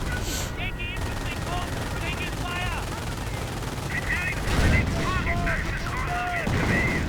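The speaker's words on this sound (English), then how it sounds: "Riflemen getting blasted by assault guns" Gunfire in a World War II strategy game as assault guns blast riflemen, dense rattling bursts and booms layered over each other under continuous talk, loud and busy throughout.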